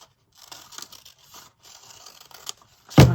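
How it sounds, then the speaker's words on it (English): Scissors snip and slide through paper in a mixed media art journal, a run of soft, close cutting and rustling sounds ending in a louder clack. "let me cut the white off"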